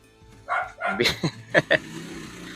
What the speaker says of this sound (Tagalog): Ingay naman ng aso na to.